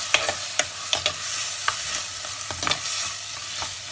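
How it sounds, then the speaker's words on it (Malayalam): Fish curry being stirred in a clay pot, with a series of scraping strokes against the pot over a soft, steady sizzle, close and clear with no talk. "മൺചട്ടിയിലാണ് വയ്ക്കുന്നത്. ചെറുതായി ഒന്ന് ഇളക്കി കൊടുക്കാവേ."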